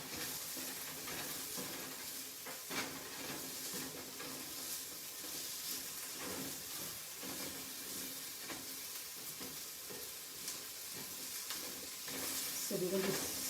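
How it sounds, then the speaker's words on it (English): Onions sautéing in a pan give a faint, steady sizzle with soft stirring scrapes, swelling a little louder at the end. "So we're going to saute the onions."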